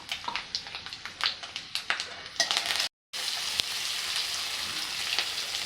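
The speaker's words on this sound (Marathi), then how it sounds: "यात आपल्याला तळून घ्यायचं आहे थोडे शेंगदाणे चना डाळ आणि उडदाची डाळ" Peanuts, chana dal and urad dal frying in hot oil with cumin, a steady close sizzle with crackling pops, briefly cut by a silent gap before the frying resumes.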